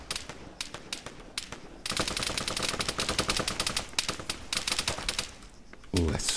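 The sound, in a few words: gunfire in video game Arma 3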